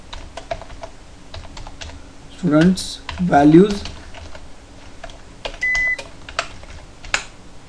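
Rapid keystrokes on a computer keyboard while SQL insert statements are entered, a steady run of close clicks with a short burst of voice partway through and a brief electronic beep near the end.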